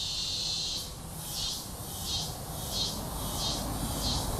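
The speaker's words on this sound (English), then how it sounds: "Wow, those things are loud, aren't they?" Loud, steady cicada buzzing fills the air outdoors, pulsing in regular swells roughly every second and a half, with no talking.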